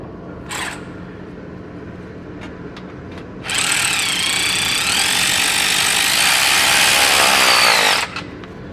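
A power tool tightens an exhaust clamp on a Chevrolet Silverado 5.3L catback exhaust: a few brief clicks, then a loud sustained close whirring run of about four seconds that stops abruptly.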